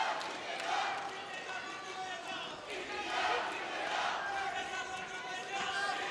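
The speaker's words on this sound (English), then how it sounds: "You can hear the Indians in the crowd." Crowd of Indian spectators cheering at a wrestling final in the West Midlands, a continuous roar of voices rising and falling, heard under close commentary talk.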